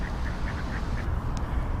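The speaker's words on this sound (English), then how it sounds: "Quack, quack, quack, quack, quack," Ducks quacking near the Tidal Basin on a spring morning, several short nasal calls in a rough repeating rhythm over steady low outdoor background noise.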